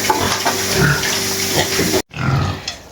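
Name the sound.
pigs in a farm enclosure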